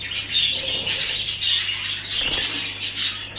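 Close, rapid chirps and tweets from a large pet bird with bursts of fluttering wings and light scratchy patter, fairly loud and busy throughout.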